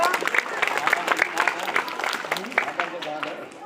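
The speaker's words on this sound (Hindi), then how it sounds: "साबिर हुसैन जोरदार तालियां दीजिए।" Audience clapping at a school award ceremony as a third-place student is honoured, a steady patter of many hands close by, with bursts of sharper claps throughout.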